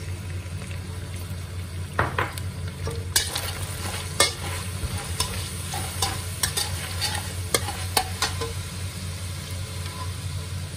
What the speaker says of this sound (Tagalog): Igisa lang po natin saglit para ma-absorb ng tofu ang soy sauce at ang oyster sauce